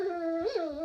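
A dog gives a single drawn-out, wavering whine that rises and falls, close and fairly clear, with no barking.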